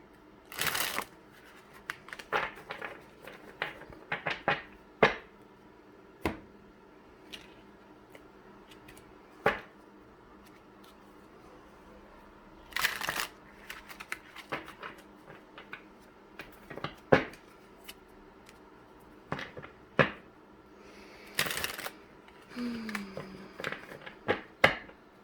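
A deck of playing cards is shuffled by hand again and again, each riffle a short crisp burst of fluttering card edges between quiet pauses of handling, close up, with no talking.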